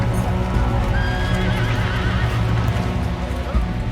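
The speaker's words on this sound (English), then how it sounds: "horses coming through the surf" Horses neigh and hooves splash and clatter through shallow surf as an army comes ashore on a beach with cannons, a busy, continuous loud scene with a voice briefly audible.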